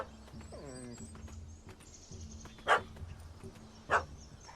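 A dog barks in The Witcher 3 video game, two sharp separate barks a little over a second apart, fairly close, over quiet ambient game sound and a low drone.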